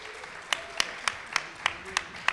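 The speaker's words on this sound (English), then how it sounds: "If you give a big round of applause to Daniel." An audience at an event applauds in a steady patter of clapping, punctuated by several sharp, louder individual claps at regular intervals, with no voices over it.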